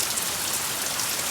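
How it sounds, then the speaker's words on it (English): Steady rain falling on a cloudy, overcast afternoon, a dense even hiss of drops without a break. "listen to Mitch's rainy afternoon"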